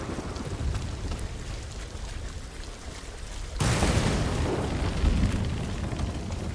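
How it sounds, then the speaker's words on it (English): Heavy rain hisses steadily in the video game Ghost of Tsushima, then a loud, close rumble of thunder breaks in and sustains a dense roar to the end. "This thunder is really..."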